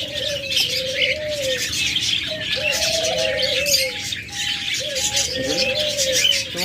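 A rainbow and albino budgerigar pair chirp and warble continuously in a busy, close chorus, with soft background chatter from other birds at a Bangladeshi bird shop.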